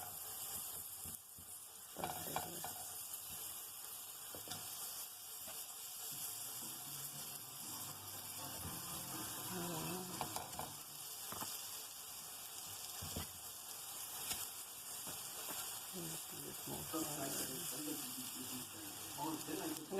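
Flour-dusted aloo tikki potato patties fry in a lightly oil-brushed pan with a faint, steady sizzle and soft crackles in a quiet kitchen.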